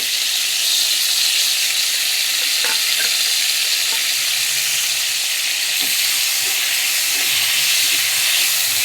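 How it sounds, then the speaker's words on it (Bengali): White mustard seeds, chilli and garlic fry in oil left from frying aubergine, giving a loud, constant hissing sizzle with a few light stirring taps and pops. "সাদা সর্ষে, লঙ্কা, রসুন, এগুলোকে একটু আমি হালকা ভেজে নেব"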